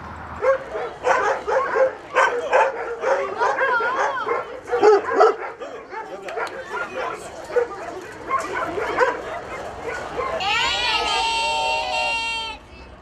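Dogs at an animal shelter, including puppies, yipping, barking and whimpering in a busy mix with children and adults talking throughout, ending in a sustained chorus of high yelps.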